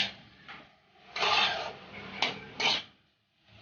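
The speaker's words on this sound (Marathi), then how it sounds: "त्यामध्ये उकडलेला बटाटा मॅश करून टाकायचा चांगलं मिक्स करून घ्यायचं" Boiled potato mashed and stirred into a pan of sautéed filling for bread patties, heard as a few rough scraping and rubbing strokes, moderately close, with brief pauses between them and no talking.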